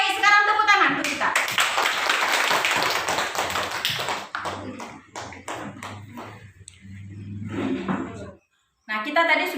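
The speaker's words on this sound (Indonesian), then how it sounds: "Sekarang tepuk tangan untuk kita." A group claps hands during an Indonesian classroom mindful-eating session: a burst of fairly loud, close clapping mixed with voices and chatter, then quieter talk with a short silent gap near the end.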